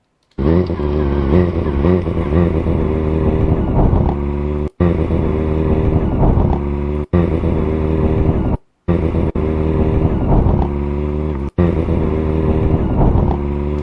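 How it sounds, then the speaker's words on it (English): A motorbike passes by in Cornwall, a loud engine drone rising and falling in pitch, broken by several brief silent gaps. "you can still hear the motorbike"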